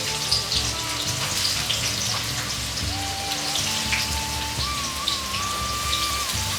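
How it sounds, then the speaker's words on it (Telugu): Sliced onions hit hot oil and fry with a loud, dense crackle and sizzle, a continuous spitting patter over a steady hiss, alone with no voices. "వేడెక్కిన ఆయిల్లో జస్ట్ ఆనియన్స్ అలా వేసుకోండి."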